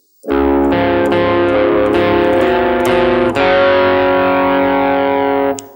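A distorted electric guitar in drop D tuning plays a short, heavy phrase of sustained chords, loud and up close, ringing out at the end.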